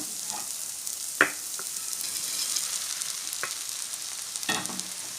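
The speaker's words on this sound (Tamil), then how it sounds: "இப்போ நம்ம வந்து வதக்கி வச்சுருக்கிற சுண்டக்காய் போட்டுக்கலாம்" Turkey berries (sundakkai) crackle and sizzle in hot oil with a steady hiss, broken by a few sharp clicks of a spoon stirring the pan, close by and alone with no talk.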